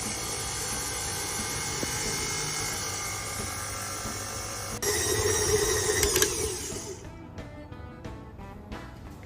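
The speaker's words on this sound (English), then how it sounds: "now we're going to attach this again to our stand mixer and bring the dough together" A stand mixer kneads yeasted Black Forest bread dough, giving a steady mechanical whir and rumble that shifts to a louder, heavier churn partway through, then stops and leaves quieter clicking and handling sounds.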